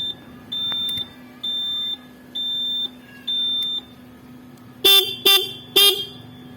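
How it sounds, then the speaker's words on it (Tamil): An electric load bike's indicator buzzer beeps in four even, steady tones, each roughly half a second long, followed by three quick louder chirps, close and clear with no talk. "buzzer with indicator"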